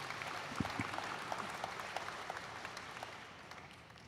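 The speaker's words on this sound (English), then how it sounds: "everybody applaud that guy." Applause from a convention crowd at a Minecraft event, an even patter of clapping that begins fairly strong and slowly fades toward the end.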